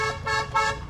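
A car horn sounds in two short honks with a steady, bright tone, close by over low road noise.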